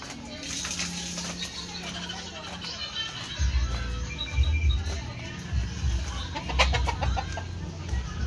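Chickens cluck and squawk nearby over a low background rumble, with scattered bird calls and some muffled voices.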